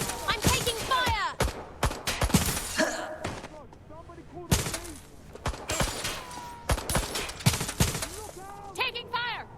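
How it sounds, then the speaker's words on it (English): Gunfire erupts in the Watch Dogs Legion video game as loud, sharp shots and bursts in irregular clusters, with thuds and impacts between them and game character voices shouting over the fighting. "I'm taking fire!"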